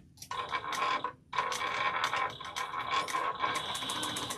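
A sewing machine stitching a fabric shoe bag, running in rapid mechanical bursts with a short pause near the start, close and clear with no talking.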